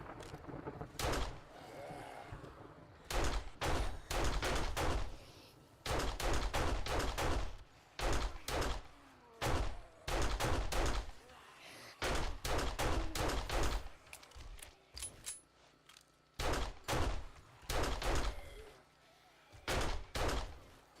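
AK rifle fire in the survival video game 7 Days to Die, with bursts and single shots cracking in a steady repeating run, loud and close, against a night fight with feral zombies.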